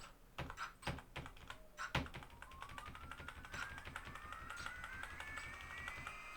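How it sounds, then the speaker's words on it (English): Keys on a computer keyboard are clicked several times in a quick irregular run at the start, and a rising motor whine from a drone's flight controller test follows. "so you can see when I'm clicking if you can't hear me hitting the keyboard"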